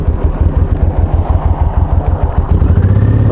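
Honda VTX1800 motorcycle engine running steadily up close, a deep pulsing idle-like throb with rhythmic low beats that swell slightly louder near the end, no talking.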